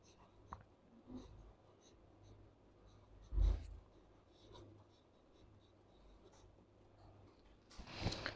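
Faint scratching of chalk or marker writing on a classroom board during a lipid chemistry lesson, soft intermittent strokes in a quiet room, with one louder tap partway through and a brief rustle at the end.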